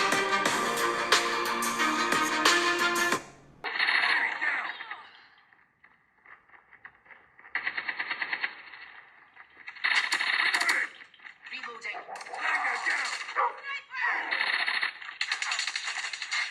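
Video game audio with gunfire plays through the stereo speakers of a Lenovo Tab Y700 tablet, bursts of sharp shots and effects broken by short quieter gaps, after a brief stretch of music at the start.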